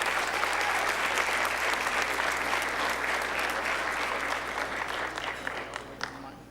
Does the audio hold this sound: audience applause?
yes